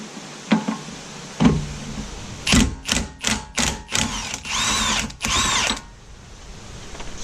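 A power tool with a 36mm socket unbolts the rear axle nut of a 1989–93 Nissan 240SX S13, first a few sharp clicks, then a run of short loud rattling impact bursts followed by two longer buzzing runs, close and alone.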